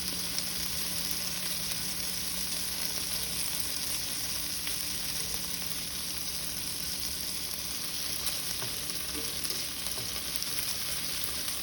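Bacon frying in a pan on a stovetop at medium heat, a steady, dense crackling sizzle that holds evenly throughout, close and with no voices.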